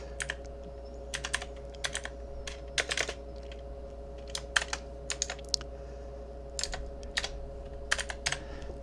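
Typing on a computer keyboard while configuring a file server: scattered bursts of crisp key clicks in quick clusters with pauses between, close and moderately quiet over a steady electrical hum.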